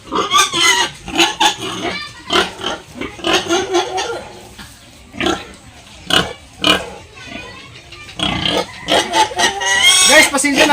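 Restless, hungry Landrace gilt squealing and grunting in loud repeated bursts close by, mixed with a person talking throughout.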